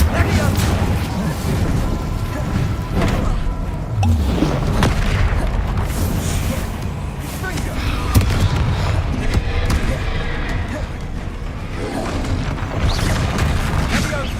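Repeated booming blasts from Bombarda and Confringo explosion spells in Hogwarts Legacy crack out in a rapid irregular series over a dense rumbling battle din, loud and close throughout.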